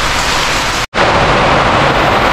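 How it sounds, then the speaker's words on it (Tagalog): Heavy rain pours down on a mountainside, a dense, loud, steady hiss that fills the clip, broken only by a brief cutout near the start. "palakas ng palakas yung ulan mga kabayan"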